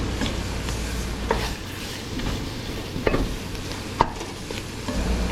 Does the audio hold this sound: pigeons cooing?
no